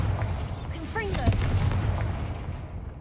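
Explosive blast from a Confringo fire spell in the video game Hogwarts Legacy: one deep booming impact with a rumbling decay, loud and close, over steady game background noise, with a voice calling out the spell.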